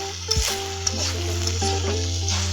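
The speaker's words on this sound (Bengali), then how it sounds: "এটা ভাজতে হবে আপনার হালকা হালকা জালে" Bitter gourd slices frying on low heat in a pan make a steady, gentle sizzle with occasional stirring knocks and a faint background hum, close by and without speech.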